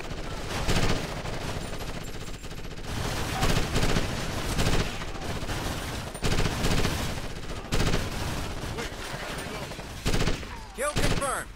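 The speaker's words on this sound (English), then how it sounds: "Firing!" Sustained automatic gunfire in the 2006 tactical shooter Ghost Recon Advanced Warfighter, dense loud bursts rolling almost continuously with brief pauses.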